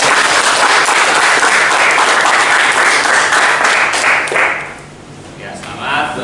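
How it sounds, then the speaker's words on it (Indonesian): An audience at an Indonesian student research presentation bursts into loud, dense applause that holds steady, then fades out near the end. "Baik, sebelumnya kita beri apresiasi dengan tepuk tangan."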